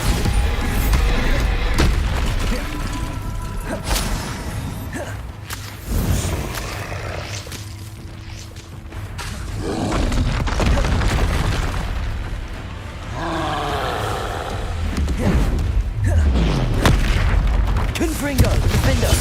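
Bombarda blasting spell going off in Hogwarts Legacy, with repeated heavy booming explosions and rumbling impacts layered over dense game action, loud and close throughout.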